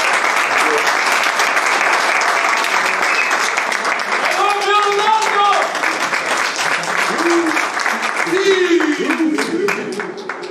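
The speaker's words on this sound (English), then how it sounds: "another round of applause to our great player and star," A large audience at Cristiano Ronaldo's Al Nassr presentation in Saudi Arabia gives sustained, loud applause, dense clapping throughout with some voices and faint tonal sounds rising over it.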